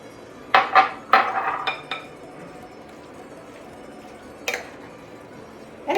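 Diced Greek kasseri cheese tossed into an orzo-bean salad gives several quick clinks and soft taps against a bowl, a cluster at the start and isolated knocks later, close and fairly clear with no talking.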